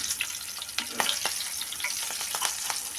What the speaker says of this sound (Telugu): అది కూడా బాగా ఫ్రై చేసుకుందాము